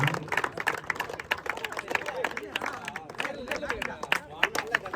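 A crowd claps for a special prize winner at a cricket tournament presentation, with quick, uneven hand claps rattling close by while someone speaks over a microphone.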